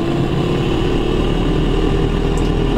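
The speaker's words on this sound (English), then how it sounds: "Let's see if our blower works." Blower fan of a barn-find Edsel Corsair running steadily, a close, continuous droning hum with no clear change in pitch or level and no talking over it.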